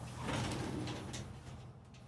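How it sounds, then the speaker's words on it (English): An accordion-style three-panel bathroom door in a Thor Hurricane 34E RV slides along its track, giving a soft, continuous rustling scrape that lasts about two seconds at close range. "little accordion 3-panel door"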